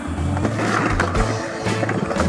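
Skateboard wheels roll steadily over pavement in a continuous rumbling drone with a few clacks and bumps, close and loud, with no one talking.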